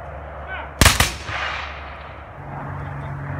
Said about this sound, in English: somebody over on the other end is firing back at us